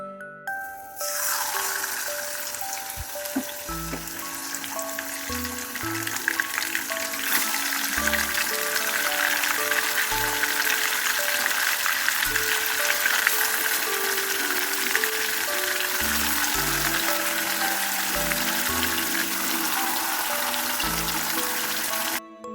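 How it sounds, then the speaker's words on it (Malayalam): Tamarind liquid boils steadily in a pan, giving a continuous bubbling sizzle that holds at an even level throughout, close and fairly loud, with no talk over it. "അപ്പോൾ ദാ ഇവിടെ പുളിയൊക്കെ ഇങ്ങനെ തിളച്ച് വരുന്നുണ്ട്"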